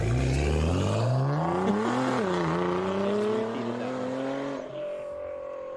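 A Chevrolet Camaro LT1's engine revs up and down in several rising and falling sweeps, loud and near, then settles to a steadier high idle, with a man's brief speech over it.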